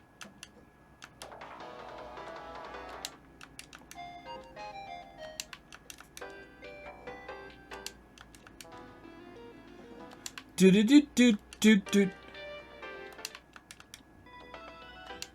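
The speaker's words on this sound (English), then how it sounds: "Set call ringtone." A short electronic phone ringtone melody from the Steins;Gate video game plays in bursts over quiet background tones, with a brief louder chiming passage near the end and a voice speaking briefly.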